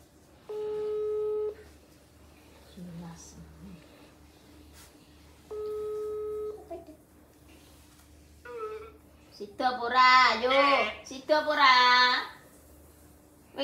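Telephone tones, two long steady beeps with a gap between them, sounding in a household near a market outing, followed by voices talking in Javanese and Indonesian over a low hum.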